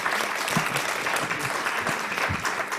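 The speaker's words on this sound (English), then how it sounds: "Let's give him a round of applause." An audience applauds a presenter after a talk at a live subtitling training event, with steady dense clapping throughout at moderate loudness and no voices standing out.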